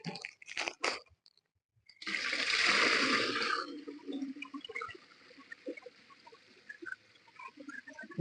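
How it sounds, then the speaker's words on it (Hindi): Milk poured into a cooking pot for Peshawari-style kheer gives a loud, steady liquid rush lasting about a second and a half, followed by quieter bubbling and clinks. "अब इसमें डालेंगे ये दूध।"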